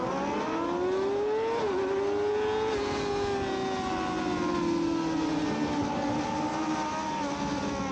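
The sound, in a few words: Yamaha R6 motorcycles at a race start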